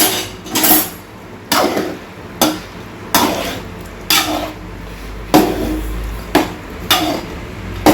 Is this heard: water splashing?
no